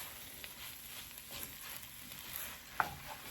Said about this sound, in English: This time you just toast your rice.